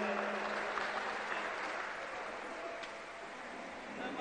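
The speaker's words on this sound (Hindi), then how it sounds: "आप सब तालियों के माध्यम से आपका स्वागत करें।" An audience at a public event on industrial area development applauds to welcome a minister, a steady, even wash of clapping held at moderate distance throughout.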